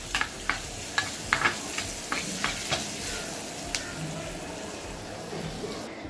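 A tempering of ginger and green chillies sizzles steadily in hot oil for chole, with a spoon knocking and scraping the pan in quick, sharp strokes early on before the stirring settles into a softer continuous hiss.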